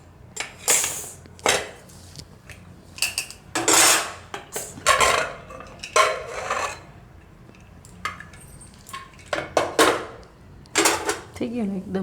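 A pressure cooker of green pigeon peas and potatoes being opened, with a series of loud metallic clanks and clatters of pots and utensils, separated by short pauses.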